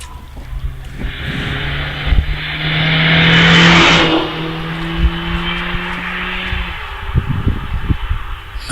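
A Mazda MX-5 race car at the Harewood hillclimb passes at a distance, its engine note swelling as it draws near and then fading, with faint background noise and clatter around it.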